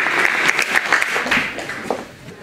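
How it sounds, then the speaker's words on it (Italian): Audience applause at a music school recital fills the clip, a dense spread of clapping hands from a crowd that stays steady and then tapers slightly near the end. "Un bel applauso per Isabel"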